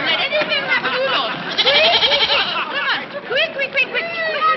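Goat bleats mixed with several people talking and calling in a 1946 film comedy, wavering cries overlapping busy voices, close and loud.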